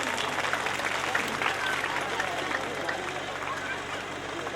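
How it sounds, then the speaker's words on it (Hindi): An audience claps together at a Hindu religious discourse gathering, a Shrimad Bhagavat Katha, producing dense, steady applause throughout with a faint murmur of voices underneath. "तालियां बजाओ सभी।"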